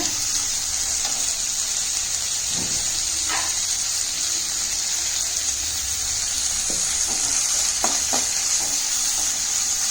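A steady sizzling hiss of salted tomatoes sautéing in a pan, with occasional soft clicks and stirring scrapes, no talking.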